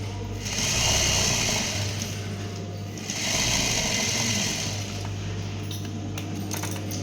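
Sewing machine stitching a lunch bag: two close bursts of rapid, whirring needle action over a steady motor hum, with a short pause between runs.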